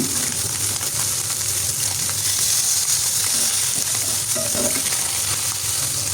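Small fish frying in oil in a pan, a steady loud sizzle with crackling that runs continuously and close up, with no talk over it.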